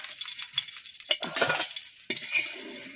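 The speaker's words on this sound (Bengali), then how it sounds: "টাকি মাছগুলো ভাজতে দিয়ে দিয়েছি" Taki fish pieces fry in a pan with a steady, close sizzling hiss. Brief crackles and scraping stir sounds come through, and no one speaks.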